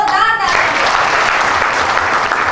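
Audience at a hasya kavi sammelan comedy poetry gathering applauding loudly, a dense continuous wash of clapping from a large crowd, with a voice briefly audible at the start.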